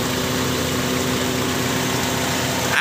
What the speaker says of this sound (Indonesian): Lanjut review bagian mesin sama dihidupkan ya